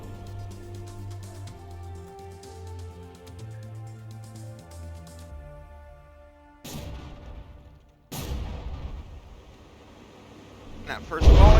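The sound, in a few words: battleship gun volley in the video game From the Depths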